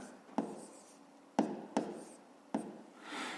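Pen strokes on paper during a fifth-grade math exercise, four sharp separate scratches spaced unevenly over a quiet room, ending in a softer rubbing swish.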